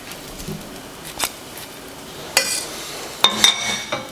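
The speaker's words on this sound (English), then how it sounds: "As soon as it's off the heat, we can add our zest. Stir it together." Orange zest is stirred into a hot mixture just off the heat for Neapolitan struffoli, making a few soft, separated scraping and clinking spoon strokes against the pot over quiet background.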